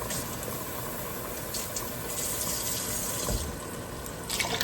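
Water poured from a can into tomato puree in a pan for shrimp linguine, a steady close splashing pour that runs evenly throughout with no talk.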